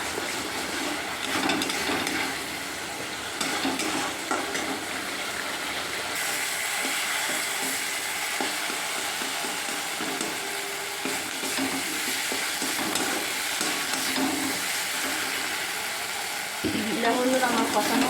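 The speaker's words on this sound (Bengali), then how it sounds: "মশলাটা আমার কষানো হয়ে গেছে" Spices with Kashmiri chili powder being sautéed in a pan for a rohu fish curry, a steady close sizzle and frying hiss with occasional stirring scrapes throughout, a brief clatter near the end.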